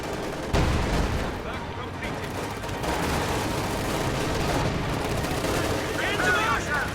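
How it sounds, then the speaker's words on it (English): Gunfire and incendiary barrage explosions in a war strategy video game: dense rattling shots and rumbling blasts run throughout, with a sharp burst early on, under a commentator talking. "Incendiary barrage coming down on this giant blob."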